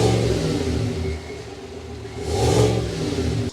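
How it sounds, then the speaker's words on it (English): The V8 engine of a 2025 Chevrolet Tahoe Premier SUV rumbles close by, its deep exhaust note swelling as it revs up once and then settles back, with no talking. "so you can hear that exhaust note"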